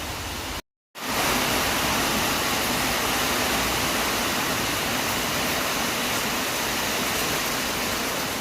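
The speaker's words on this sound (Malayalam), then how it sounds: "മഴ ഇന്ന് കനത്ത് പെയ്തുകൊണ്ടിരിക്കുക, ഇടിച്ചു മൂടി." Heavy monsoon rain pours down in a steady, dense roar that fills the whole clip, broken only by a brief dropout near the start.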